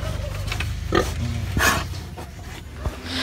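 A pig grunts and oinks in its pen in a few short, close bursts over low background rumble and rustling.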